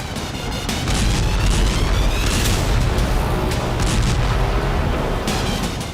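A heavy, sustained roar of explosive rumble fills the scene, with crackling bursts layered over deep low booms, loud and continuous.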